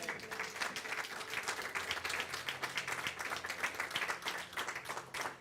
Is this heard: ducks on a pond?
no